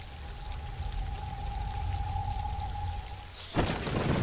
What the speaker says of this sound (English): Getting a good rain, so I don't need to water it.